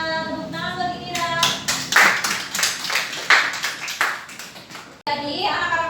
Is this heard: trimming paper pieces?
no